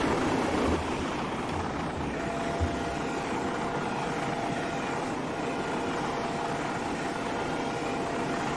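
Steam locomotive running inside a tunnel, a steady loud enveloping engine roar with a continuous broadband rumble and faint tonal hum throughout, no talk.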